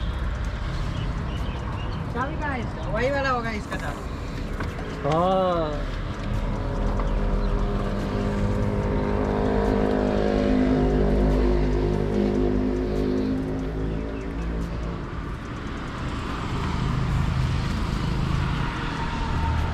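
A Toyota Innova left parked in a garage for over three and a half years cranks with rising whirring tones a couple of times, then settles into a steady close engine rumble while people talk nearby.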